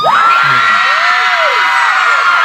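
A mall crowd at a live meet-and-greet event screams, whoops and cheers loudly and continuously, with high shrill yells rising over a dense wash of voices throughout.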